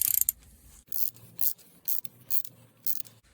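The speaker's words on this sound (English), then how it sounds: "Then switch over to the ratchet" A hand ratchet turns in short, distinct clicking bursts, about six in quick succession, tightening the differential or transfer case drain plug on a 2012 Range Rover Sport SDV6 at close range with no talk.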